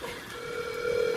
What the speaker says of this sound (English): Is it dialing?